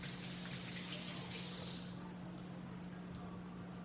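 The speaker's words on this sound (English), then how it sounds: "Let me wash my hands." Hands are washed under a running kitchen tap before lemon chicken is cooked, a steady close rush of water that thins and softens about halfway through, with no talking.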